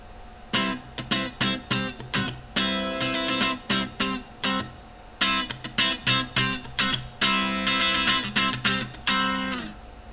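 An unprocessed electric guitar sample with no effects plays in short rhythmic chord bursts, with clean, bright plucked notes in choppy repeated groups and brief gaps between phrases.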